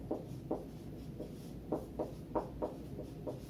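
Chalk or marker strokes on a board while writing out a maths problem in a classroom, a few faint scratchy taps in uneven bursts, quiet and close.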